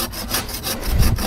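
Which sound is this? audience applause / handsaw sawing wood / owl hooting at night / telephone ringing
handsaw sawing wood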